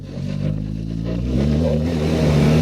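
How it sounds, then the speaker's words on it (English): A BMW R 1300 GS Adventure motorcycle engine drops a gear while slowing on the road, giving a loud, close, steady engine drone whose pitch shifts and swells slightly over a couple of seconds, with no talk. "If instead we want it to downshift abruptly, maybe because we are entering a built-up area and we want to just pull down a gear"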